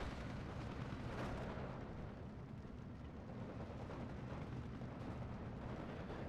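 Cannon and artillery fire in the Steel Division 2 war game, including a 57 mm anti-tank gun engaging a T-28 tank: a continuous, faint rumble of distant explosions and booms with no speech.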